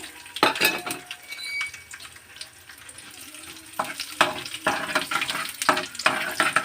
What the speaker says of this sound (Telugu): ఆయిల్ హీట్ ఎక్కింది పోపు దినుసులు వేసుకున్నాము